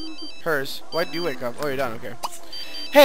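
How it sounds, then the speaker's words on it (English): A phone ringing in The Sims 3, a repeated electronic ringtone in steady, evenly spaced bursts, partly buried under a person talking over it. "Someone's phone is ringing."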